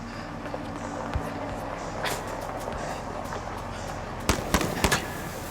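Gunshots in the video game Inside, a quick cluster of sharp cracks near the end cutting through a low steady rumble of background noise.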